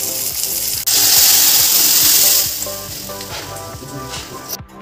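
Green chillies and tomatoes drop into hot tempering oil for sambar, setting off a sudden loud sizzle that hisses strongly for a couple of seconds, then settles into a softer, steady crackle.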